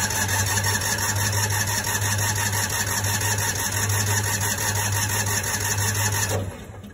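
A John Deere Gator UTV engine runs at a steady rapid chug with a buzzing, mechanical texture, loud and close, then cuts off abruptly near the end.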